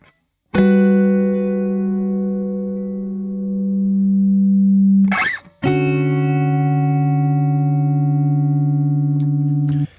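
Two sustained electric guitar chords ring out clean and loud after hiss removal, each held for several seconds, with a quick scratchy strum between them and no background noise.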